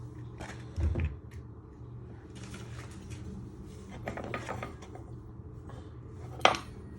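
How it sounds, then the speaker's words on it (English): Eggs being whisked in a bowl, with light clinks and scraping clatters of a whisk against the dish, irregular and close, and a sharper clink near the end. "You just start giving a little whisk."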